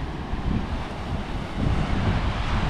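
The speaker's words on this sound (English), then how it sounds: "I reckon those look like waves to me" Ocean waves breaking on the shore at Tora, New Zealand, a steady broadband wash and rumble swelling slightly louder toward the end, mixed with strong wind buffeting the microphone, no talking.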